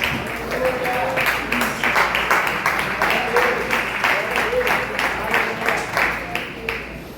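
Church congregation applauding during a Portuguese-language evening service, steady dense clapping sustained throughout at moderate loudness, with voices mixed into the crowd noise.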